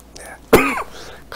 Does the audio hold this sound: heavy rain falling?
no